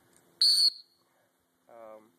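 A single sharp, high dog training whistle blast, short and piercing, followed after a pause by a brief lower voiced sound.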